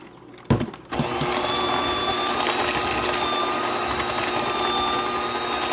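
An electric mixer whirs steadily as it blends milk into cream cheese and sour cream for a pineapple pudding dessert, starting after a few clunks and then running loud and constant to the end.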